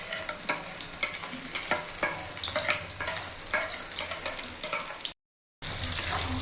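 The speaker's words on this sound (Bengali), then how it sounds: "এবারে সর্ষেটা দিয়ে নাড়িয়ে নিতে হবে।" Shrimp frying in a pan while ground mustard paste is stirred in, a steady close sizzle broken by repeated spatula scrapes and clicks, with a brief dropout near the end.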